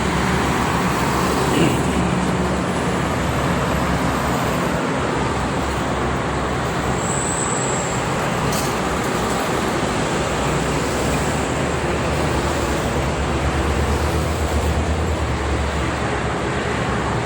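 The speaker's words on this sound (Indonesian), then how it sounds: "Kalau ke arah barat itu didominasi oleh kendaraan pribadi sama truk angkutan barang." Heavy traffic of private cars and freight trucks rolls along the busy Jakarta-Cikampek toll road in a continuous dense roar, with passing vehicles swelling and fading and no speech.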